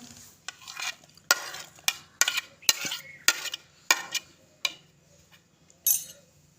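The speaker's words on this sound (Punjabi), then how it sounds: "ਚਲੋ ਜੀ ਹੁਣ ਆਪਾਂ ਚਟਣੀ ਨੂੰ ਕੁੱਟਦੇ ਆਂ" Ginger and garlic are pounded by hand for a homemade chutney, giving sharp, irregular knocks about twice a second with quiet pauses between them, and no talking.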